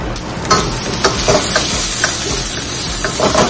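Ground pork fries in hot oil with a loud, continuous close sizzle and crackle, broken by soft scraping stirs.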